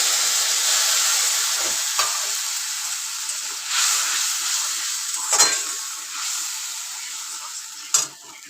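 A turmeric spice paste mixed with water fries loudly in a pan for lau ghonto, with a strong steamy sizzle that slowly fades and flares again with a few sharp stirring clinks.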